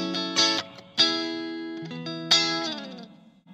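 Electric guitar through the reverb of a Blackstar ID Core V3 amp, with the pickup selector between the middle and neck pickups: a few strummed chords ring out with long, washy reverb tails, loud and close, with no talking.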